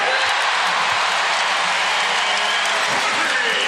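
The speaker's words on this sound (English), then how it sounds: "There's a cheer and a little bit of a sigh of relief from this Allen Fieldhouse faithful." The Allen Fieldhouse crowd cheers and applauds at a Kansas college basketball game against Toledo, a dense, loud roar of voices and clapping that fills the whole moment without a break.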